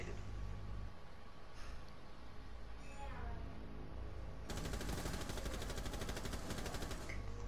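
Gunfire in the tactical shooter Rainbow Six Siege: a few scattered shots early on, then a sustained rapid automatic burst in the second half, fairly close and loud over ambient game noise.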